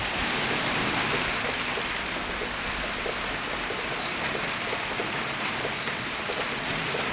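Heavy rain from the remains of an ex-cyclone pours steadily onto surfaces outdoors near a shed, a dense, even hiss throughout with no voices.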